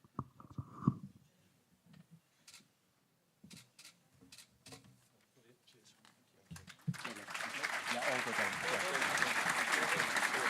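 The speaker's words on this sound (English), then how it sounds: "We'll give you another round of applause in a second." Audience applause at the Hull City 2022/23 Player of the Year awards ceremony, rising loud and sustained in the second half after a stretch of quieter scattered sounds and talk.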